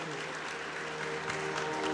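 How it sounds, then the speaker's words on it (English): Audience applauding guests at an institute event during a visit by Mufti Menk, brief continuous clapping over a low steady hum, with faint voices mixed in. "now give a round of applause to all of them."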